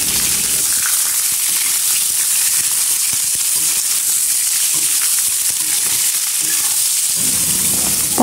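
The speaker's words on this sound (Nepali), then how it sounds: "मासुलाई चाहिँ तेलमा मजाले चलाउने।" Chicken pieces frying in hot oil with blackened spices for a curry, a steady loud sizzle and hiss running throughout with faint stirring scrapes, close up and with no talking.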